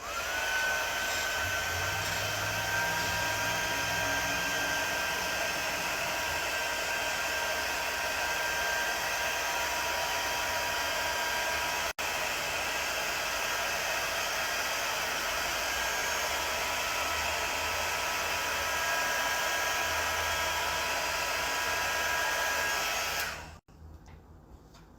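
Hair dryer blowing on paste applied to a truck side, a loud steady close whine and airflow hum running continuously for over twenty seconds before cutting off abruptly near the end.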